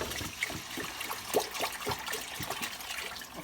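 Milk poured into a pan for a scratch-made mac and cheese sauce, a short soft trickle and splash of liquid at close range.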